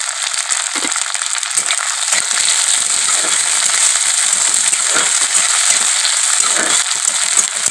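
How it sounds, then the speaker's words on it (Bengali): Chopped onions hit hot oil alongside dried red chillies, producing a loud, steady, crackling sizzle that holds without pause throughout, with faint scraping stirs now and then. "শুকনা লঙ্কাগুলোরে খুব সুন্দর করে লাল লাল করে ভাজার পর আমরা তাতে দিয়া দিমু আগে থেকে কাইটটা রাখা পেঁয়াজ"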